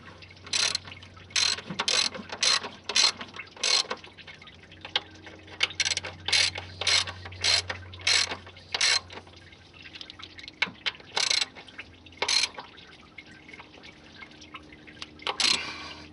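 Ratchet clicking in repeated short bursts as bolts are tightened into aluminum on a Ford F-150, close and fairly loud, with pauses between strokes over a low steady hum.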